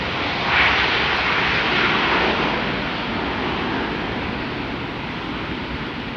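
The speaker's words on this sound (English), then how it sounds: "And there's a Cayman Airways 737 Max." Cayman Airways Boeing 737 Max jet landing at an airport: a steady, broad roar of engine noise that swells slightly early on and then holds, loud and continuous throughout with no talk.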